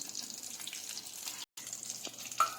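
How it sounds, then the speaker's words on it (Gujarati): Batata vada, potato fritters, fry in hot oil with a soft, continuous bubbling sizzle that stays faint and close, broken by one brief gap. "બટાકા વડા આ રીતે આપણે થોડા બ્રાઉન કલરના થાય બદામી રંગના ત્યાં સુધી એને તળી લઈશું"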